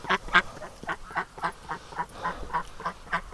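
Ducks at a farm quacking repeatedly in a steady series of nasal calls, close and fairly loud, with no talking over them.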